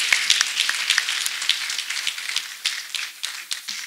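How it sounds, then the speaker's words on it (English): A small gathering claps after a testimony at a church service, a loose scattering of distinct hand claps close by, irregular and thinning slightly toward the end, with no speech. "Let us clap for Master Jesus."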